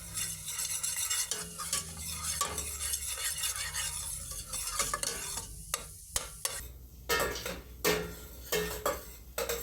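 Onions sauté in a pan until soft for a braciole sauce, a continuous close sizzle with spoon scraping, then sharper clinks and utensil taps against the pan toward the end.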